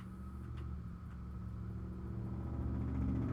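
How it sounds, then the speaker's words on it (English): A tractor trailer engine rumbles outside, a low, steady drone that swells slightly as the truck passes, muffled and at middle distance. "tractor trailer, you don't sound well"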